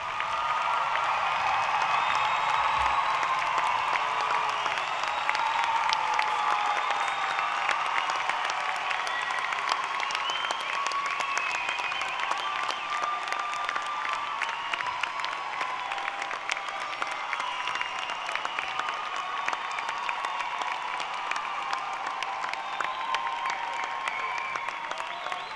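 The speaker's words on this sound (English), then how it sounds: "please stand for a round of applause." A graduation ceremony audience stands and applauds the families and supporters of the graduates, a long, steady roar of many hands clapping with faint cheering mixed in, continuous and even for over twenty-five seconds.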